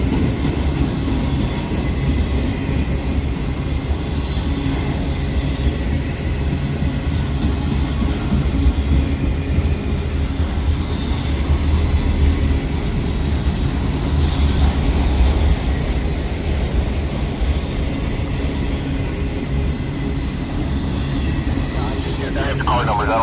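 Amtrak, Union Pacific and BNSF trains roll through downtown El Paso, Texas, a loud, steady low rumble of rail traffic that runs unbroken throughout, with faint voices mixed in.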